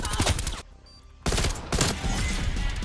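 M16 rifle fire in Black Ops Cold War: two loud close bursts of rapid shots split by a brief quiet gap, the second burst running to the end.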